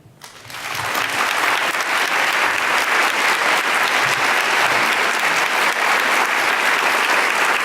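An audience at a book festival applauds to welcome author Mbolo Mbwe; loud, dense clapping swells within the first second and then holds steady and full to the end, with no talking over it.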